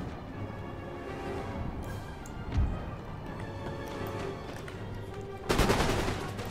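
Musket fire from skirmishers shooting at a unit of Marines in Empire: Total War, a steady crackle of distant gunfire under battle ambience, with a louder burst near the end.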